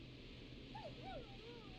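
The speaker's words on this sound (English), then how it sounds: "Is that a neighbor's dog?" A neighbor's dog in the night-time horror game Killer Frequency gives a few short, high yips and whines, faint and distant over a low steady background hum.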